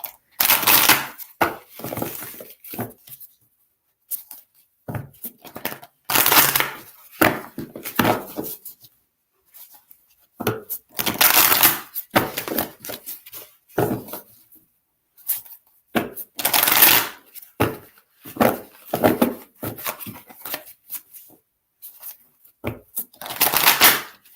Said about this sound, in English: it's going to take me just a minute to shuffle these cards.